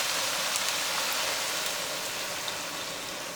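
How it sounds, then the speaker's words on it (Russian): Eggs and milk fry in a pan over raised heat with a dense, continuous sizzle, close and even throughout, with no voices. "Сейчас огонь увеличиваем и обжариваем."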